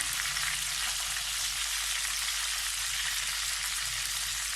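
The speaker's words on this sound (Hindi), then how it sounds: "ज़्यादा तेज़ आंच नहीं रखें। मैं इसको फ्राई कर रही हूँ।" Chandan kebab frying in a pan over moderate heat, a steady close hiss of sizzling oil with fine crackle running through the whole stretch, no talk.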